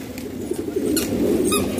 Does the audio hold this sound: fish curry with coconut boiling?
no